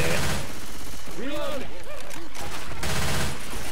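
Rapid bursts of gunfire from Left 4 Dead 2 as players shoot at zombies, loud and continuous with game sound effects and music layered over it.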